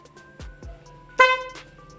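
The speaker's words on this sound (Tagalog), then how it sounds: "pinindot ko yung switch ng busina, tutunog yung busina" A motorcycle horn wired to a passing-light switch gives one short, loud honk after a couple of dull low thumps, close by with no talking.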